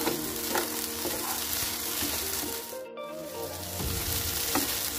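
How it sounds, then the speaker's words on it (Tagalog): Egg being scrambled and fried in a hot pan for fried rice, a steady loud sizzle with stirring and scraping throughout, briefly dipping near the middle before resuming. "Scramble the egg."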